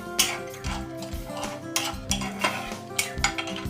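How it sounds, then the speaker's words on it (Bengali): Chana dal is stirred in hot oil for a South Indian red kara chutney, with a spatula clicking and scraping against the pan in an uneven rhythm over a faint sizzle, close up and with no talking. "দিয়ে একটু আমরা এটা নেড়ে নেব তেলে।"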